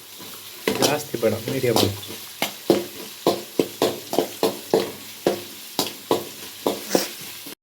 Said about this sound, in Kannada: ಈರುಳ್ಳಿ, ಮೀಡಿಯಮಾಗಿ ಫ್ರೈ ಮಾಡ್ಕೊಳ್ಳಿ.